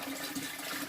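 Tap water runs steadily to refill a home aquarium during a water change, a continuous broadband wash of flowing water heard close and alone for under a second.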